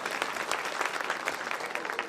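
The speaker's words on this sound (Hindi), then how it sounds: "बजाओ अपने सम्मान में जोरदार ताली" Audience at a kavi sammelan poetry gathering in Isagarh breaks into steady, dense applause, a continuous patter of many hands clapping at moderate volume without pause.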